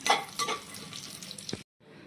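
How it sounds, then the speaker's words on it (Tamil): Almonds, cashews and raisins fry in a pan for bread halwa, a busy crackling sizzle with a few sharper pops. It runs steadily for about a second and a half, cuts to silence, then returns more faintly. "இந்த பாதாம் வறுத்துக்கலாம், முந்திரியும் வறுத்துக்கலாம், கொஞ்சம் திராட்சையும் போட்டுக்கலாம்."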